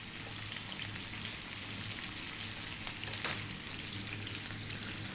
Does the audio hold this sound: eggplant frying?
yes